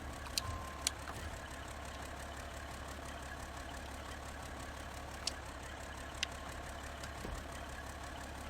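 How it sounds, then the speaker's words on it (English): An idling truck engine gives a faint, steady low rumble, with a few sharp clicks scattered over it. "The way this truck sounds at idle kind of reminds me of like an old 60s model tractor."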